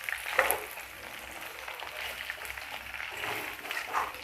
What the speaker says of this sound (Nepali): यो चाहिँ मजाले पटपट पड्किँदै खरिँदै गइरहेछ